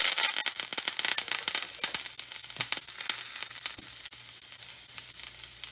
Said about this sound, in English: my oil is all heated, and now I'm gonna put my thyme in it